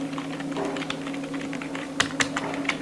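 Rapid clicking keystrokes on a computer keyboard, a close, quick irregular patter with a few louder taps near the end, over a faint steady hum.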